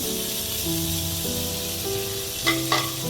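Mushrooms frying in a kadhai while being stirred, a soft continuous sizzle with a couple of short scraping clatters near the end, over a low background hum and no talk.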